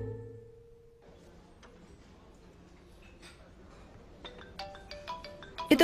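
A mobile phone ringtone chimes on a film set, quiet at first and then louder in bright repeated tones over faint background noise and low voices.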